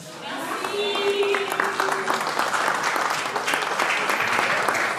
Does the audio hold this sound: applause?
yes